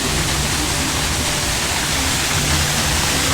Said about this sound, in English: And they've added a waterfall here.